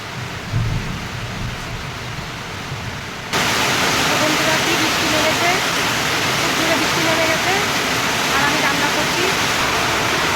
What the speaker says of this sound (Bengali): বাইরে কি মুসলদারে বৃষ্টি হচ্ছে